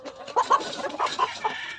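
Chickens cluck in short, bursty calls close by, several birds overlapping in a lively, uneven rhythm.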